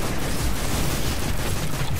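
Dense gunfire and explosive blasts in Destiny during the hard-mode Crota's End raid, a loud unbroken wall of shots and booms with no pauses.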